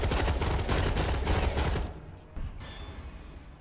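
Video game gunfire, a dense loud volley of rapid shots for about two seconds that cuts off, leaving a quieter tail with a single later impact.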